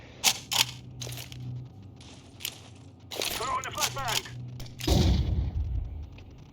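Counter-Strike gunfire comes as a few sharp, irregular bursts and shots over game ambience, with a louder blast near the end and people talking over the action.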